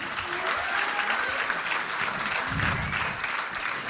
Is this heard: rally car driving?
no